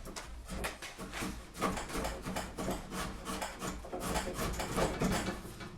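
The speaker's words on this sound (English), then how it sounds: "I'll use the slick to clean up the cut and get a really flat surface." A hand-forged slick pares a timber roof-truss cut flat during a stone barn restoration, making a close, continuous run of rhythmic rasping, scraping strokes across the wood.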